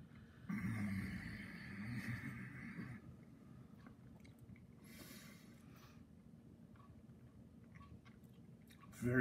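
A person chews a spicy gummy bear, soft continuous wet chewing and mouth sounds close to the mic, with a brief brighter tone early and a faint rustle near the end.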